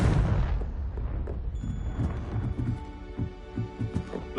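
A fiery blasting-spell explosion in the video game Hogwarts Legacy, a heavy low boom that rumbles and fades, followed by softer thumps and a faint ringing tone.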